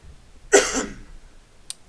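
A single harsh cough bursts out close by, followed by a brief quiet and a faint click.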